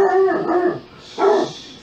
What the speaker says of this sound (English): that's my basset hound going crazy for some reason